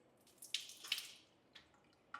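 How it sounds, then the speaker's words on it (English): A reverse osmosis drinking water tap at a built-in concrete sink in a new house in Merida, Mexico runs faintly, with a few soft splashes and drips over a quiet background. "reverse osmosis drinking water."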